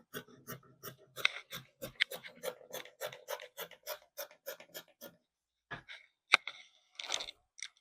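Scissors snip through dress fabric in a quick, even run of about fifteen close, faint cuts, then pause before a few more scattered snips.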